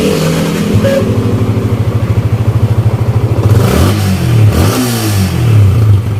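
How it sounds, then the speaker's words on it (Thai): Honda EX150 motorcycle engine idling after a valve adjustment, a close, loud, even thumping idle that then revs up and back down a couple of times. "ฟังเสียงเครื่องดูครับเช็คแล้วตั้งวาล์วใหม่"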